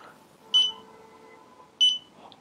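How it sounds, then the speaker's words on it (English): Two short, sharp electronic beeps from a handheld Smart Sensor AS8902 combustible gas meter being switched off sound about a second apart in an otherwise quiet room. "wait for three beeps,"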